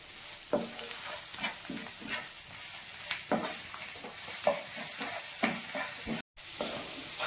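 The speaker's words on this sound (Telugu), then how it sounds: "చూసారు కదా చక్కగా మిక్స్ చేసుకోవాలి" Gongura boti curry with chilli powder, meat masala and coriander powder is stirred in a sizzling pan, a spoon scraping in repeated strokes over a steady close frying hiss.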